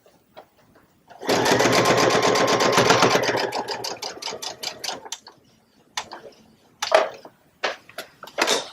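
Sewing machine stitching a quarter-inch seam around a large fabric trivet: a loud, fast burst of rapid stitching, then shorter stop-start runs with pauses and clicks between them, close up.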